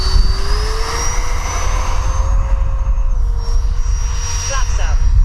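A Freewing F/A-18C 90mm electric ducted-fan RC jet doing a touch and go gives off a loud, close, rising whine with a shifting pitch, while a voice talks over it.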